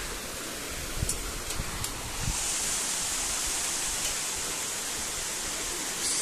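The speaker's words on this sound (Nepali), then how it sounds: "सर्लक्क हिमालबाट आएको पानी" Rushing meltwater from the Himalaya in a mountain stream by a small footbridge, roaring as a steady broadband wash with a few brief knocks early on, growing a little louder and staying constant throughout.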